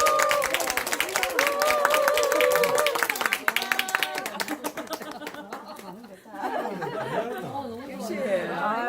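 A lecture audience claps and laughs to welcome a history lecturer, scattered applause and chatter running under ongoing speech, moderately loud and close.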